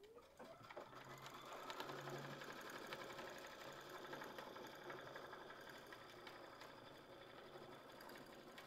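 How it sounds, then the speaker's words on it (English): An embroidery sewing machine stitches out a design with a fast, even mechanical whirr and tapping, steady and close, with no voices over it. "we're just gonna hit go and it's gonna move, jump to where it needs to go and sew out that design"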